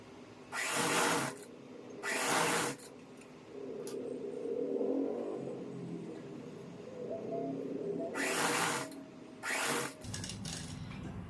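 A sewing machine stitches a salwar seam in several loud bursts, two close together near the start and more near the end, with quieter handling sounds of fabric between runs.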